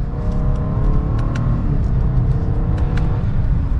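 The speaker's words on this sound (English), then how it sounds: "we'll pop it into the manual setting and give it a little bit of gas" A 2022 Lexus LS 500 F Sport in manual mode, heard from inside the car while gently accelerating: a loud, steady engine rumble and a smooth rising hum that continue throughout, with no talking.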